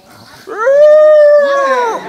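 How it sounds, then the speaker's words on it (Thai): A puppy gives one long, rising then steady howl with rich harmonics, close and fairly loud, at a gathering for elderly people; it rings alone for about a second and a half after a short quiet start. "วันนี้เรามีลูกหมามา4ตัวแต่ละตัวหอนได้หมดเลย"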